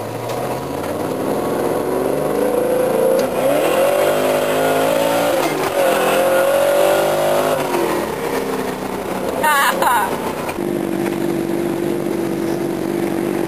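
A supermoto motorcycle rides past traffic, its engine note climbing and dropping through gear changes and a downshift, loud and close with wind buffeting throughout.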